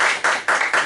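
A quick burst of hand clapping, about four rapid claps in under a second, close and fairly loud.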